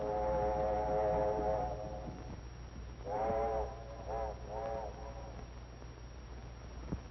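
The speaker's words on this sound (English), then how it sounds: "There was, too, a train." A train whistle sounds in long harmonic blasts, first a sustained tone then a few shorter hoots, moderately close over a low rumbling background, with a sharp knock near the end.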